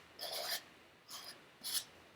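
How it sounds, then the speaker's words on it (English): A sanding block scraped along the edge of a decoupaged tissue-paper napkin, three separate quiet raspy strokes with short pauses between, close up and without talk. "I'm just taking a sanding block and going against the outside."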